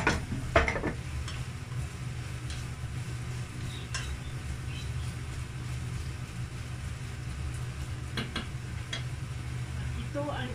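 Chopped onion goes into a pan for a tomato lasagne sauce and is stirred, giving a low steady sizzle with a few scraping stir strokes near the start and end.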